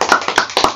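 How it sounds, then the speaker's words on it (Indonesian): A few children clapping in a primary school lesson: three or four short, sharp bursts of claps spaced out over under a second, close and clear with no talk. "Tepuk tangan sekali lagi."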